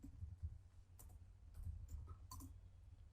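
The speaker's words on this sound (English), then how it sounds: "I'll start typing insert into" Faint, quick clicks of typing on a computer keyboard while entering an SQL command, a few keystrokes spaced irregularly over a low steady hum.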